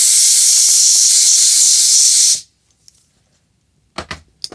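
Compressed air is blown at a part from a 1965 Ariens snowblower to clear off oil residue: a loud, close, steady hiss for over two seconds stops sharply, followed by a few faint clicks and light knocks.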